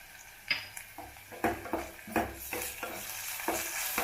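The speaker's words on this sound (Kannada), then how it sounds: "ಬೆಳ್ಳುಳ್ಳಿ ಪೇಸ್ಟು ಮತ್ತು ಮೆಣಸಿನ್ಕಾಯಿ ಪೇಸ್ಟು ಎರಡನ್ನೂ ಮಿಕ್ಸ್ ಮಾಡ್ತಾಯಿದ್ದೀನಿ" Garlic paste and green chili paste fry in a pan for a beans fry, stirred in steady, rhythmic scraping strokes over a faint, continuous sizzle, close and moderately quiet.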